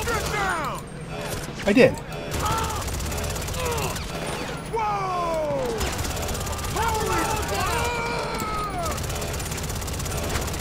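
Video game gunfire from a shooter with mercenary-style combat keeps up in rapid bursts under sustained explosive noise and mechanical rumble. A player talks over the loud battle.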